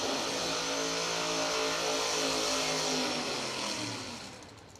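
A 1992 Ford Mustang drag car at a drag racing event, its engine roaring loud and sustained at close range, then tapering off near the end.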